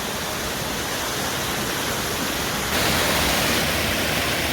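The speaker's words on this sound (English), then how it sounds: "Just wanted to show you the amount of flow on this because it's so bottlenecked up, it's just pumping through here." River water surging through a narrow rock bottleneck at the Caboolture River Falls in Queensland, a loud, steady broadband roar close by that swells slightly partway through, with no voices.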